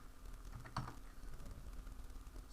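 Quick keystrokes tapped on a computer keyboard while entering numbers, a light scattered patter with one slightly louder clack, heard close over a faint steady hum.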